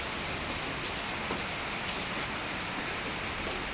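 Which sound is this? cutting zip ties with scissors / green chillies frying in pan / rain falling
rain falling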